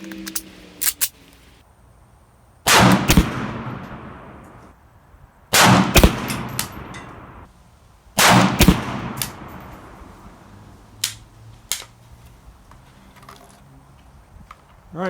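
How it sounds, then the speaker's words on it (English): PSA AK-P 7.62x39 pistol firing three loud, well-spaced full metal jacket rounds outdoors, each crack trailing off in a long echo, then soft handling clicks. "that was 3 shots of the full metal jacket"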